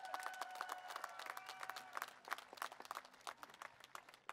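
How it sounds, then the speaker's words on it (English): Applause for graduating students at a 2023 alternative education graduation ceremony in Riverside, a fairly faint, distant patter of clapping from the audience with a faint tonal hum running underneath. "Let's give our students a big round of applause tonight."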